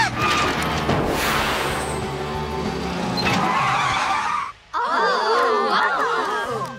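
A long, loud scooter tire skid screeches and wails, then cuts out briefly before a second squealing skid starts up, in a cartoon.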